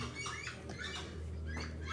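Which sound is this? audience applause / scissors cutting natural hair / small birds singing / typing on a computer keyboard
small birds singing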